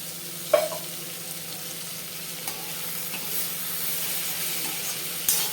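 Beetroot and onion fry in gingelly oil in a pan for beetroot curry, giving a low, steady sizzle and hiss with a few sharp clinks of a stirring utensil near the start and end.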